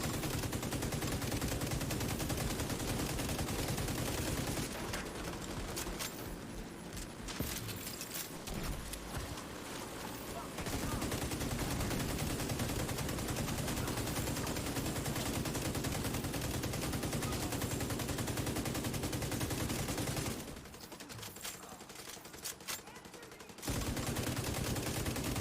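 A turret in the video game The Division 2 fires almost without pause over long stretches, a dense, continuous rattle of shots. Two brief lulls break it before the firing resumes.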